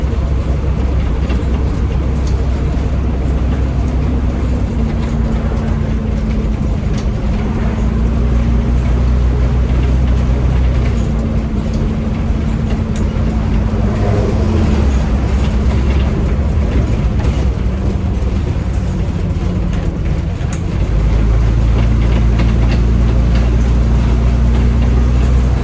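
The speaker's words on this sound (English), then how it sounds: "trained to drive these old buses" An old bus engine drones loudly and steadily while the bus is driven, with a low rumble and mechanical rattle throughout and a shift in engine tone near the end.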